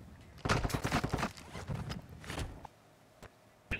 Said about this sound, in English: Pistol round.